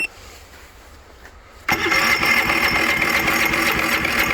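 An Ecoflow Smart gas-powered 1.6 kW generator engine catches after a quiet pause, jumping abruptly to a loud, steady, close running drone that holds to the end.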